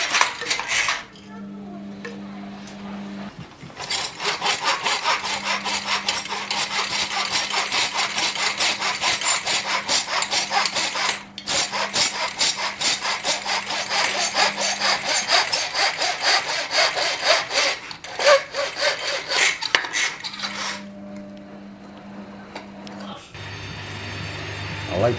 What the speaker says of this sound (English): The outside was made out of pine and cut using a cheap and slightly damaged miter saw